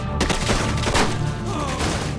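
Heavy gunfire crackles through a movie action scene, several sharp shots and bursts rattling close together over a loud, busy soundtrack.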